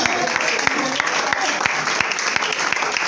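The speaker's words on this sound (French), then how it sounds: "Acclamez le Seigneur." A church congregation applauding in acclamation of the Lord, dense continuous clapping from many hands with sharp individual claps standing out, loud and close, with voices mixed in.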